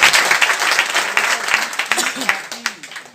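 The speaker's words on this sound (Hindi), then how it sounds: "एक बार उस व्यक्ति के लिए जोरदार तालियां बजा दीजिए।" Loud applause from a seated audience at a direct-selling business talk, a dense burst of clapping that swells at the start and continues with uneven peaks, with a voice talking over the latter half.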